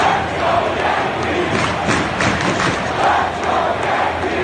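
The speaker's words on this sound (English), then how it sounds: "listen to the roar of the crowd as the Indians take the field" A loud, steady roar from a baseball video game stadium crowd, Yankees hosting the Indians in the Bronx, swelling slightly in waves with scattered thumps and no clear speech.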